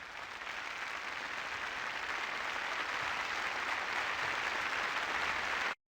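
A crowd of townsfolk applauds in a Windows 3.1 game, steady dense clapping at moderate volume that continues evenly and cuts off sharply at the end.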